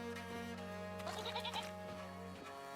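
A goat in the video game Reka bleats a few short wavering calls near the middle, over a steady droning game music bed.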